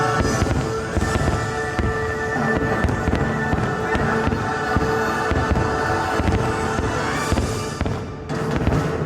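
A fireworks show at Walt Disney World bursts continuously, with dense crackling and layered booms rolling without a break for about nine seconds, loud and steady from start to end.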